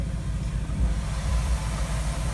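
Locomotive 5405 idling while shunting cars at Maxwell, a steady, rough-sounding low engine rumble that stays constant and close with no voices.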